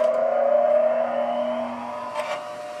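A SKIL benchtop bench grinder whirs up to speed with a steady, moderately loud motor hum and a rising tonal whine, fairly close and without talk.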